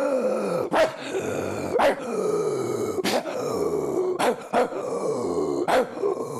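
A dog grunts and growls with several sharp barks breaking through at uneven intervals, close and fairly loud.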